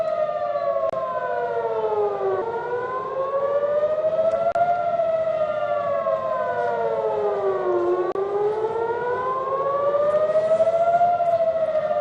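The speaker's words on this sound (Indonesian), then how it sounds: "Suara sirine terus berbunyi pada Rabu dini hari waktu setempat di kota Tel Aviv, Israel" Civil defense air raid sirens wailing over Tel Aviv, Israel, before dawn during an Iranian missile attack, rising and falling in slow repeated cycles, loud and continuous with no voices.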